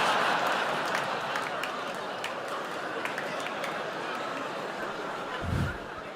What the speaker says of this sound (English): For kids dying from nuts, you applauded.